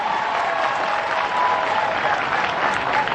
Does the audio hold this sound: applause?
yes